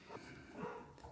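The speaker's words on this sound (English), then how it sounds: "Dogs are barking." Dogs bark briefly and faintly somewhere outside a home machine shop, a distant, muffled bark or two.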